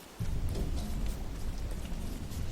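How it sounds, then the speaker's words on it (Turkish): Rain falling in the Don't Starve video game, a steady hiss of rain that starts abruptly and keeps up evenly with a low rumbling undertone, and nobody speaks. "yağmur yağıyor."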